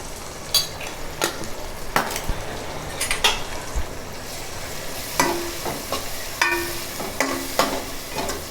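Tomatoes with salt and chili powder cooking in a pan, a spoon stirring and scraping against the metal in repeated clinks and scrapes over a soft steady sizzle, with no talking.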